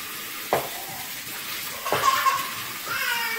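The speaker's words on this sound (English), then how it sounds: "And then we're going to add some water. Cold water." Cold water poured into a cooking pot holding chicken, a couple of splashy bursts and a steady trickling rush over faint kitchen background noise.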